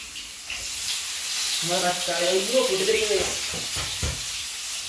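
Mustard seeds sizzle and crackle in hot oil with onions, a constant hiss that runs throughout. A voice speaks briefly over it midway, followed by a few louder pops.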